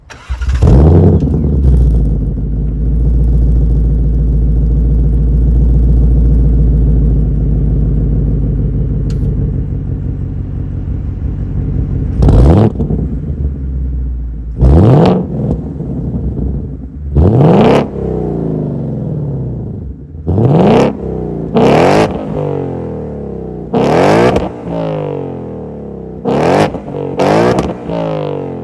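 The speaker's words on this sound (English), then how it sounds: "that was the sound of the 5-liter V8 sold by Ford for the 2023 Mach-1," A 2023 Ford Mustang Mach-1's 5-liter V8 cranks and catches, idles with a deep burbling rumble, then is blipped repeatedly into sharp, loud revs that snap back down.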